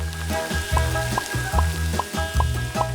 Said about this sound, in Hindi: अब तेल को थोड़ा गरम करें और कटा हुआ टॉर्टिया सुनहरा भूरा होने तक तलना है।